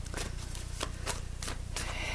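Tarot cards being shuffled by hand, soft papery riffles and slides in several quick bursts, quiet and close over a low steady hum.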